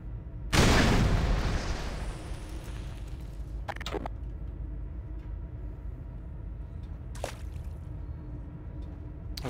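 A grenade going off in the game Black Mesa: one loud, close blast with a long rumbling decay, then a few faint knocks and clatters afterwards.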